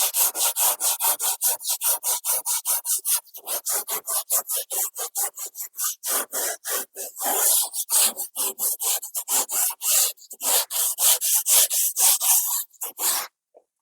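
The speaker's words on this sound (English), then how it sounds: "I have done the sanding of this canvas surface very very carefully." Rhythmic back-and-forth sanding strokes rasp across a gesso-coated canvas, close and dry, in quick regular bursts with brief pauses between passes and no voices.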